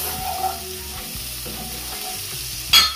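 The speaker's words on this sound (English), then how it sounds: "So I'm just going to allow this to, saute for about 2 minutes before adding my chickpeas." Vegetables with a sprig of thyme sauté in a pan, giving a steady close sizzle with a few stirring scrapes and a sharp louder burst near the end, with no talk.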